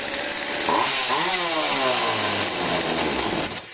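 Craftsman 16-inch chainsaw made by Poulan, running steadily after a restart with no choke, with a loud, continuous two-stroke engine drone that rises and falls slightly in pitch throughout.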